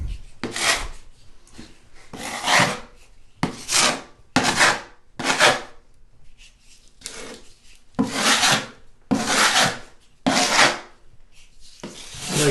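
Rhythmic rasping strokes of sanding or filing to smooth spots on a bathroom wall during a remodel, about ten close scraping bursts separated by short pauses, with no voices.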